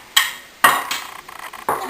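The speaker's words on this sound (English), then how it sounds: "We're just going to grab a plate, some covers, bring them over here" Plates and dish covers handled in a home kitchen, giving several sharp ceramic clinks and clatters in irregular bursts, close and fairly loud with no talking.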